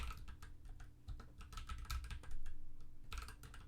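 Someone types a command on a computer keyboard in quick, irregular bursts of close, soft key clicks, with no voices.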